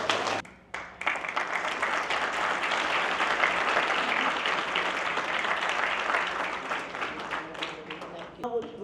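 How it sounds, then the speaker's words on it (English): A banquet crowd at a community leaders' dinner claps in sustained applause that fills nearly the whole stretch, dense and fairly loud, with brief gaps near the start and a trailing spatter at the end. "Let's give a huge round of applause."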